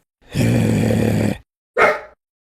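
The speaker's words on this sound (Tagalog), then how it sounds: "Tahol ka ng tahol, ha?" A caged dog lets out two loud, close vocalisations: a long, drawn-out tonal bark lasting about a second, then a short sharp yelp after a pause.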